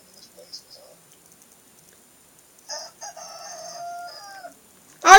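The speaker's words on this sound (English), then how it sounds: "I heard a very loud crow from a rooster." A rooster crows once, loud and close, a drawn-out, wavering call following a few faint clucks and clicks in an otherwise quiet setting.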